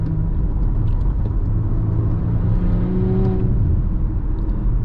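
A 2018 Audi SQ5 performance SUV drives along with a steady, loud low engine and road rumble, a constant whirring drone with slight swells as it takes turns.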